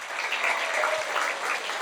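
An audience gives a round of applause in honour of a musician at a Spiritist lecture. The clapping is a continuous, even, moderately distant patter with no voices over it.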